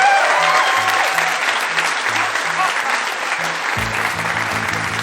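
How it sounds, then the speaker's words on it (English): Crowd at a live comedy podcast recording in London applauding themselves, a steady roar of many hands clapping, loud and sustained, with a low voice murmuring underneath and talk rising toward the end. "Give yourselves a big round of applause."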